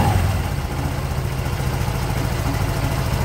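A Rusi Flex 125i scooter engine idles steadily with its CVT cover removed, a close, continuous low mechanical hum and rattle with no talking.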